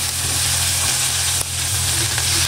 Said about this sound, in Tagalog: Haluin lang natin konti yung ating onion guys hanggang sa bumango at lumabas yung kanyang amoy